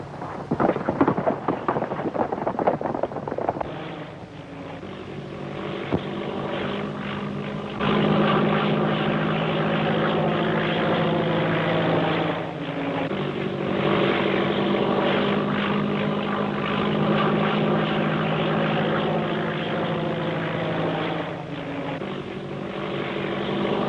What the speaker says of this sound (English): Hey, where's this plane coming from?